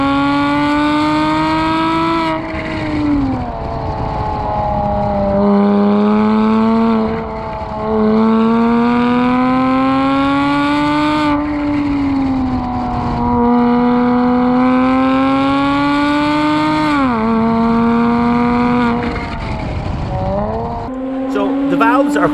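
A Porsche Boxster S fitted with a Top Gear valved exhaust, its vacuum-controlled valves open, revs up and down in sustained rising and falling surges, loud and close, with brief dips between pulls.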